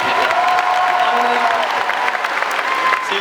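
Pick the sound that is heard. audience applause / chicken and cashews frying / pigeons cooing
audience applause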